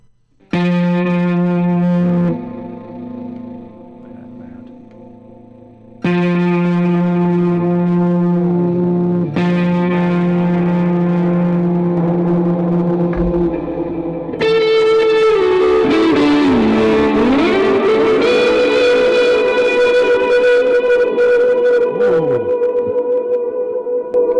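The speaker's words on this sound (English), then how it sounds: "We've got this like kind of tape echo, which is really cool." Electric guitar run through a tape echo delay effect in Bias FX 2 amp software, sustained chords and notes trailing repeating echoes, growing into a swirling, warbling, distorted wash in the second half, loud and close, with no talking.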